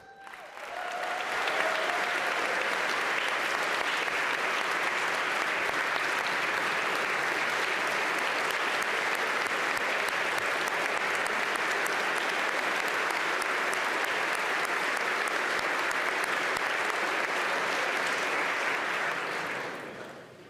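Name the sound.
audience applause at budget address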